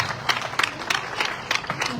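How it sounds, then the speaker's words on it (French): Scattered applause at a groundbreaking ceremony for a land office in the commune of Diass, Senegal, with loosely rhythmic clapping in uneven bursts at moderate volume against a murmuring crowd. "je voudrais que vous applaudissiez vraiment pour votre maire"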